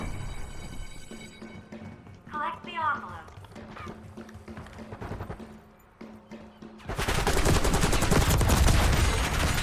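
Gunfire in the mobile shooter Call of Duty Mobile during a Squid Game style match: scattered shots and clicks under excited talk, then a sustained loud rattle of rapid fire in the final seconds.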